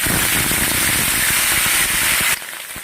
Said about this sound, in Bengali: তেল গরম হয়ে আসছে, একে একে এই যে চাল কুমড়াগুলা দিয়ে দিচ্ছি